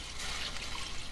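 About three cups of water pour into a pot for beef stew, a steady hissing splash that runs for the whole moment, fairly soft and close.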